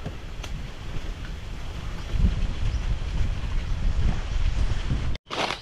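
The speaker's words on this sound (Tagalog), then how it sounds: "lakas ang hangin" Strong outdoor wind roars and buffets the microphone continuously, a dense low rumble that surges midway and cuts out briefly near the end.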